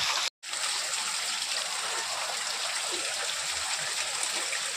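Floodwater on a rainy day pours and rushes in a steady, close, full hiss, with one brief cut near the start and no voices over it.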